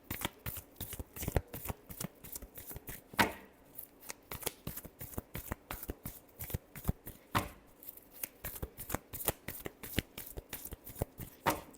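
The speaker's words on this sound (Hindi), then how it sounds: "Last shuffle." Tarot cards being shuffled by hand, a long run of quick crisp riffling snaps in steady rhythm, close and clear, with brief heavier flutters partway through and no talk.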